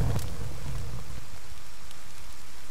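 Rain falls steadily in the survival video game The Forest, a constant hiss with a brief low rumble at the start that fades into an even patter.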